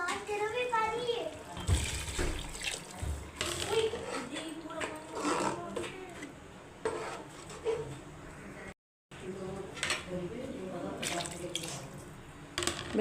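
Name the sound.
water poured into cooking pot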